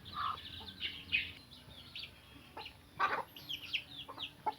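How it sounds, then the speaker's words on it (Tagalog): A free range hen with newly hatched chicks clucking in short bursts, close and fairly quiet, with a few higher chick peeps between the clucks outdoors. "And this is our new hen."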